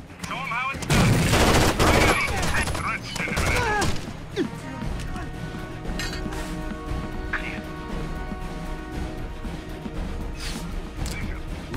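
A frag grenade blast and bursts of rapid gunfire fill the first few seconds of a Rainbow Six Vegas 2 estate firefight, then the scene settles into quieter clatter and ambient game sound.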